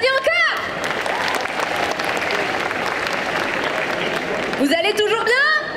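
Crowd at a cosplay parade during a Japanese manga convention claps again for a costumed performer, a steady burst of applause between brief amplified voice fragments at the start and end.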